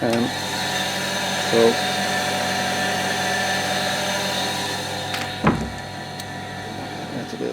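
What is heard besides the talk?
household water pump running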